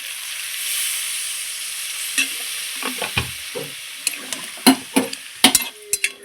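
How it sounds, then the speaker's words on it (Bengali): A jackfruit-seed and potato curry is stirred in a pan after water goes in: a soft sizzle fades under repeated spoon scrapes and knocks against the pan, which grow sharper and more frequent toward the end. "জল দিয়ে আবারও খুব সুন্দর করে নেড়ে চেড়ে নিলাম"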